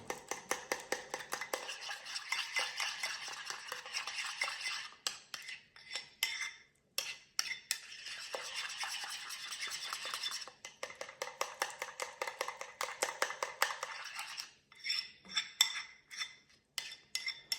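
A utensil stirs a thin, pancake-like batter in a bowl to work out the lumps, making rapid, rhythmic scraping and clinking strokes in bursts with brief pauses, close and fairly quiet.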